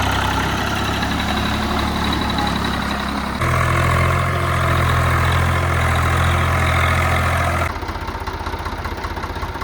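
A tractor engine idles nearby with a deep, steady diesel chug, shifting in pitch and load partway through before settling into a lighter rumble, continuous and loud with no talking.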